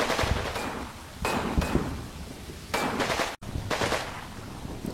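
MG42 machine gun fire in a video game, loud rapid bursts of automatic fire sounding close, separated by brief gaps, with no talking.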